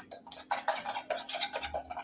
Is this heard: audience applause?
no